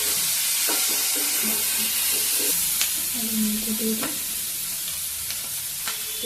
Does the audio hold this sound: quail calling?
no